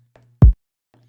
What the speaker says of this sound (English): Now, the rack kick sounds like this